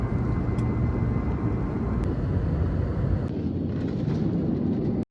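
Inside an IndiGo airplane cabin in flight, a loud, steady low engine roar and air rush fill the background continuously, with no voices.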